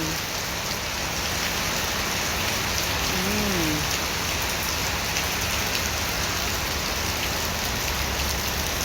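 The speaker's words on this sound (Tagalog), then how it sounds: "Ang lakas ng ulan." Heavy rain in Kuwait pours steadily and loudly on a surface, a dense unbroken hiss throughout, with a faint brief tone rising near the middle.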